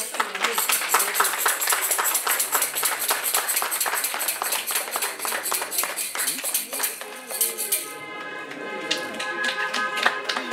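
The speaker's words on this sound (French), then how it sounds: "Sous vos applaudissements, s'il vous plaît" Wedding guests at a religious ceremony clap for the newly married couple, a dense run of hand claps close by that thins after a few seconds into a lighter patter with a ringing tone behind it.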